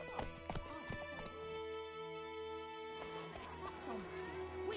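Roach, Geralt's horse in The Witcher 3, trots with a steady, close clip-clop of hooves and lets out a whinny, set against a sustained musical backdrop with a voice briefly talking.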